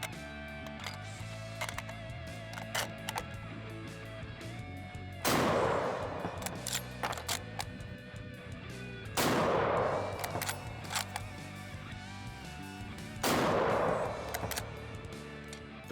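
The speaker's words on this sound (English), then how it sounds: "This S&B ammo also shot pretty poorly out of the No. 5 Jungle Carbine." A No. 5 Mk.1 Jungle Carbine rifle fires S&B ammunition in three loud, sharp shots spaced about four seconds apart, with small clicks and faint distant gunfire heard between them.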